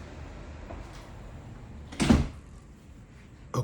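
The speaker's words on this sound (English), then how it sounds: "Let me close this door" An indoor door is pushed shut with a single short, loud thump partway through, over quiet room hiss and with no talking.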